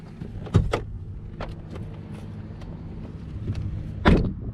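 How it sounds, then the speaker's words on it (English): Trunk and hood of a 2014-2020 Chevrolet Impala being opened: two sharp latch clunks a few seconds apart, close by, with quieter rattles and handling noises in between and no talking. "we're gonna open the trunk, open the hood"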